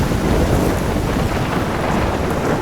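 Storm weather in the video game Life is Strange, with a steady, loud wash of rain and wind-like rumble filling the whole stretch, no distinct thunderclap standing out and no voices.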